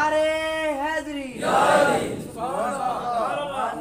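Crowd of worshippers at a Friday sermon chanting slogans in unison, a loud swelling roar of many voices following a preacher's call, then a second response fading into more chanting.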